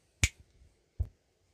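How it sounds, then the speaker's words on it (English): Two crisp finger snaps sound close up, the first at once and the second about three quarters of a second later, with near silence around them during off-grid camping in the Peak District. "Let's snap my fingers and hopefully there'll be eggs in the bowl."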